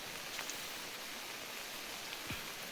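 Steady broadband hiss of heavy rain falling outdoors, a continuous even wash with faint scattered drop ticks throughout, no voices.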